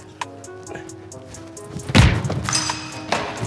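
A single heavy thud from an opening tool striking a tin of Oscar Surströmming, the Swedish fermented herring, and failing to pierce it, loud and close, followed by rustling handling noise.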